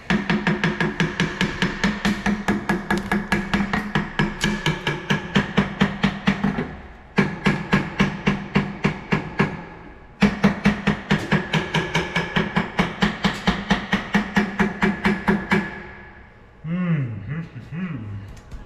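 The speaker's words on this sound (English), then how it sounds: "Get the hammer and tap it." Rapid, steady metallic hammer taps on a hydraulic cylinder under repair ring out in long runs, pausing twice, with a voice speaking near the end.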